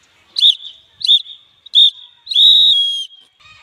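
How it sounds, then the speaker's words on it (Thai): A scout whistle sounds a signal of three short sharp blasts followed by one longer held blast, loud and close, with brief silences between. "หวีดสั้น3 ครั้งหวีดยาว1 ครั้งติดต่อกันไปเรียกนายหมูมารับคำสั่ง"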